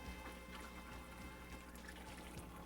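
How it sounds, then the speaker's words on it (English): Water draining from an Accutemp Steam n Hold unit into a 4-inch-deep pan, a faint continuous pouring trickle that stays steady with no talk over it. "drain the remaining water into your 4-inch deep pan"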